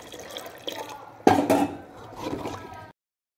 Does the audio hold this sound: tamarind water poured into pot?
yes